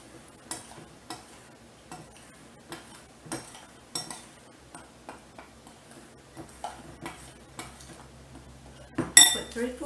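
A spoon stirs shortbread cookie dough ingredients in a bowl, making quiet, rhythmic clinks and taps against the sides, with a louder knock near the end.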